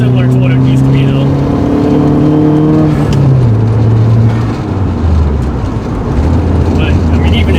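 Turbocharged Audi R8 running about 10 psi of boost accelerates hard on a mountain road, its engine note climbing through the gears with shifts, loud and close, while someone talks over it.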